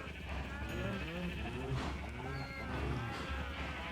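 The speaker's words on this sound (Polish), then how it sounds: "jeszcze owieczki nakarmię. Owce." Sheep in Minecraft bleat repeatedly in short wavering calls over steady game background sound, with a voice speaking in between.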